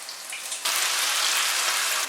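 Tofu fries slowly in oil over low heat, a soft hiss that jumps abruptly louder partway through and then holds as an even, steady sizzle.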